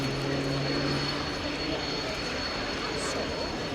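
A propeller-driven RAF Tucano T1 trainer aircraft performs at an air display, its engine drone steady and continuous throughout, with a low hum and faint talk underneath.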